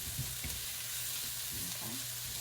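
Peppers for Asian-style pepper steak fry in a pan with a steady, dense hiss, and soft tossing and stirring sounds come through beneath the sizzle close by.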